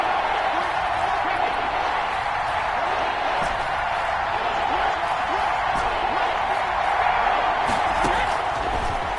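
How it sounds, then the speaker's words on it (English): Stadium crowd noise from a video game football match on PS4, a steady loud roar of cheering with scattered claps and shouts, continuous throughout under game commentary. "Crowd getting in it a bit already."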